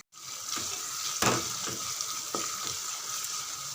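Finely chopped onions and curry leaves sizzle steadily in hot oil for a chicken kuzhambu, a close, continuous frying hiss broken by a few sharp stirring clacks against the pan.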